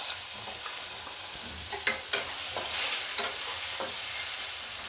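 Potato pieces frying in hot oil in a pan, a continuous sizzle with scraping stirs and occasional knocks of the spatula, close and moderately loud, no talking.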